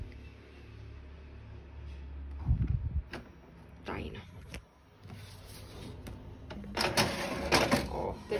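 A home printer feeding and printing a sheet of paper, with intermittent mechanical clunks, whirring carriage passes and rattling bursts, close and moderately loud, while a person speaks at times in between.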